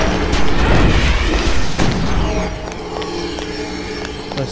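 Enemy gunfire in the video game Oni, loud booming bursts crowding the first two seconds, then a steadier rattle of shots and impacts that stays strong but settles slightly lower to the end.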